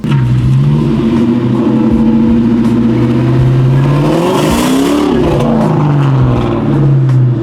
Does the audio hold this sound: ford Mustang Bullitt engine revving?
yes